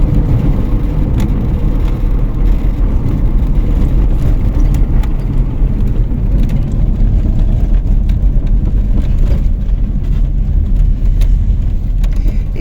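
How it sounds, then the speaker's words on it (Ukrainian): A car jolts over potholes on a rough country road, with a loud continuous low rumble, knocks and rattling of the body and suspension running through the whole stretch. "Це ще не зовсім каравуль, це тільки початок скачків і дрібіжжань."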